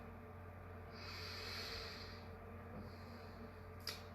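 A person draws a slow, deep breath in through the nose, then takes a second, shorter breath, both soft airy hisses close by in a quiet room, ending with a faint click.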